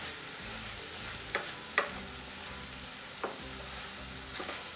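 Veg Hakka noodles with cabbage stir-fried over a high flame in a kadai, giving a steady soft sizzle broken by a few scraping stirs, fairly quiet and without talk.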